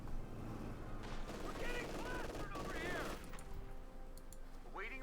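Gunfire in the strategy game Company of Heroes 2, with repeated machine-gun bursts and shots crackling steadily in the background beneath a commentator's speech throughout.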